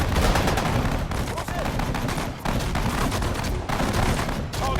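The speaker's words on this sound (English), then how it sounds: "we're going to start firing mortars in there" Sustained mortar and gun barrage in the World War II strategy game Sudden Strike 4, Singapore mission: dense, continuous rapid thumps and cracks, loud and close, with faint voices underneath.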